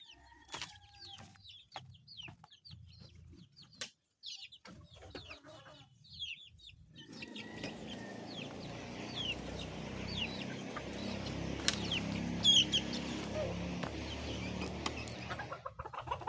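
Newly hatched chicks squabble in a loud, dense chorus of peeping and clucking that swells from about seven seconds on, after a quieter opening of scattered chirps.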